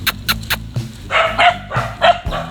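A puppy barks in quick bursts, a series of high yips followed by fuller barks, close and fairly loud with short gaps between them.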